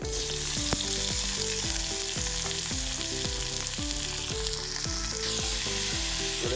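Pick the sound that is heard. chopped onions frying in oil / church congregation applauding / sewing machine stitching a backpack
chopped onions frying in oil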